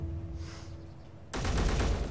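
Turret gunfire in the space game Space Engineers breaks out as a sudden, loud, rapid burst of shots after a quieter stretch with a steady hum.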